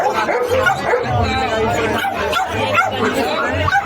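Several dogs bark and yip amid the busy chatter of a dense crowd at the Sonpur Mela dog market, with voices talking close by throughout.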